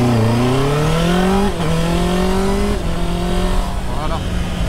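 A 2024 Honda CB650R motorcycle with E-clutch pulls away from a standing start, its engine note climbing through several gear changes, loud and close, with someone talking over it.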